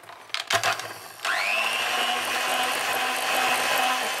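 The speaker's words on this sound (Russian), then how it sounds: "и снова взбиваем миксером" Electric hand mixer whipping chocolate cookie dough with butter mixture and egg: a few clattering knocks, then the motor starts and holds a steady, loud whirring whine to the end.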